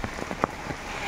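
Light rain patters on an umbrella and a vegetable garden, a soft steady hiss with a few distinct nearby drop taps standing out in a short burst.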